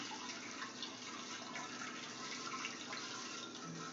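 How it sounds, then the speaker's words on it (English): Star San no-rinse sanitizer liquid splashing and pouring into a brewing vessel for a golden ale, a steady watery rush heard close and alone throughout. "Splash of sanitizer in there."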